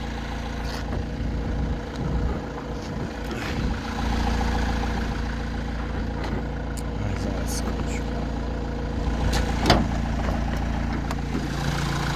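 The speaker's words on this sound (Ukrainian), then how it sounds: "ніяких посторонніх звуків, чистий звук мотора" An Opel Vivaro 1.6 diesel van engine from 2015 idles steadily and smoothly at close range, a low continuous rumble with faint background clicks and noises.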